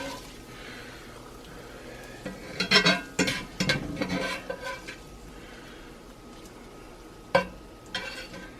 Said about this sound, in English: I want to get the ground beef in here.